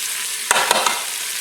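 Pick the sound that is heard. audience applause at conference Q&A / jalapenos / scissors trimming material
jalapenos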